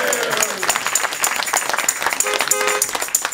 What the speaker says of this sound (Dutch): Applaus voor het nepteam van L11 L11.